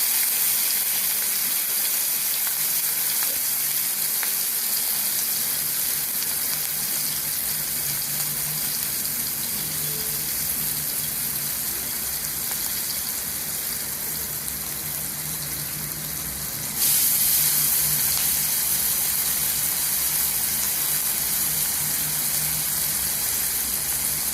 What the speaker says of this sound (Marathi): आता आपण याच्यावरती मिरच्या टाकूया